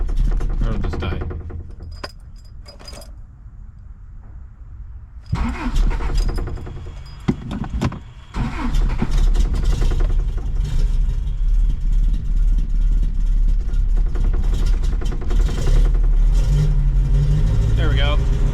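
A Toyota 4x4 camper's engine cranks and catches after a quiet stretch, then idles and revs steadily close by, with someone talking over parts of it.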